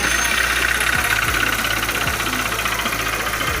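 A 2018 Honda Titan 160 motorcycle engine running with a connecting rod knock, a steady close idle with a repetitive metallic knocking beating through it, heard alone at constant loudness.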